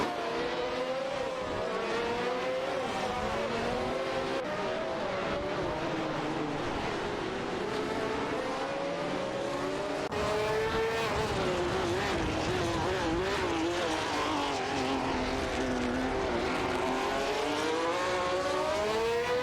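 Several AI-driven race cars in a racing video game, their engine whines layered and continuously rising and falling as they jockey for position, loud and steady throughout.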